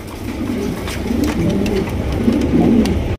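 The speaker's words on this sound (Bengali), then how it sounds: "এখানে রয়েছে ব্ল্যাক কালারের বিউটি কবুতর, একদম বিগ সাইজ দেখতে পাচ্ছেন" Pigeons coo at a market stall selling large black beauty pigeons, repeated low rolling coos layered over a dense, steady flock murmur with a few wing flutters, close and continuous with no talking.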